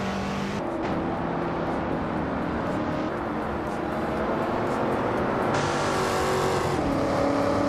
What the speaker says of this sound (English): The Betty White Show is driving a 1979 Puma GTE.